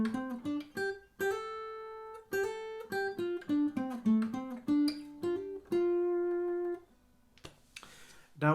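An acoustic guitar plays the lead phrase of a song, with quick plucked notes and B-string hammer-ons running in a lively melodic line. Some notes ring out longer before a final brushed strum.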